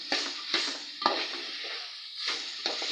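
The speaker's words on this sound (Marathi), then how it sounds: "आता ही भाजी आपण चांगली परतून घेऊया" Ivy gourd (tondli) stir-fried in a pan, steady close sizzling broken by a few sharp scraping stirs of a spatula, with no talk over it.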